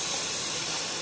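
A cutting torch slicing through a round metal plate gives a steady, loud, close roaring hiss that holds unbroken throughout.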